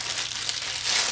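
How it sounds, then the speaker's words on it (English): A plastic bag holding Model Magic clay crinkles and rustles nearby, a brief continuous crackle that swells slightly toward the end. "I put it into a plastic bag."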